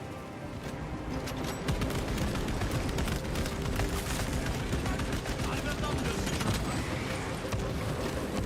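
Dense, continuous video game battle gunfire, a steady roar of overlapping shots and rumbling blasts from a siege at a breached wall, with voices in the mix.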